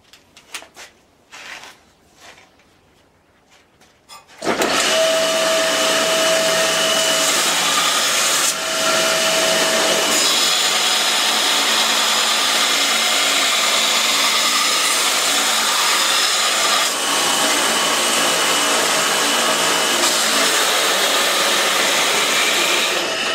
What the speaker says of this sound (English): now I'm going to grind the wedge shape on my 52-100